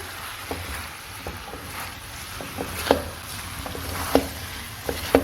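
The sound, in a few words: stirring chicken jalfrezi with fresh lemon juice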